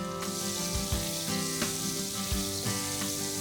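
Finely chopped garlic sizzles in a pan with hot oil, a continuous close crackling hiss broken by a few soft utensil taps, over a faint steady tonal hum.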